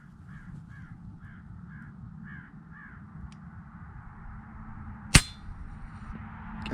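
After a string of distant crow caws, a single sharp crack rings out as an FX Impact air rifle pellet strikes a prairie dog, brief and loud over a low breezy outdoor background.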